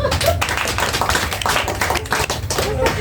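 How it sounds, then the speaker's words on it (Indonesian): A school audience applauds at a student presentation on caring for the rupiah, with dense, steady clapping from many hands throughout and voices mixed in. "beri tepuk tangan dong"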